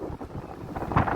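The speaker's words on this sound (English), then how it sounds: "It's pretty windy out here, so I don't know if you can hear me" Gusty outdoor wind buffets the microphone beside a parked vehicle while waiting for a convoy to set off, a close rumbling roar that rises and falls in short surges, with no speech.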